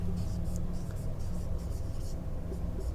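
Marker or chalk strokes on a classroom board during a Class 9 maths lesson on lines and angles, a series of short scratchy bursts repeating steadily for about three seconds over a constant low room hum.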